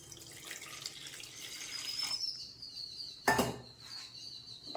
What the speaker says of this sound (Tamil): ஒரு ரெண்டு டம்ளர் தண்ணி ஊற்றிக்கிறேன்